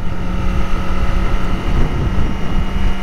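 A Kawasaki ZX25R four-cylinder motorcycle engine holds a steady drone while riding in fourth gear at a constant speed below 6000 rpm, with wind rush over the microphone throughout and no talk.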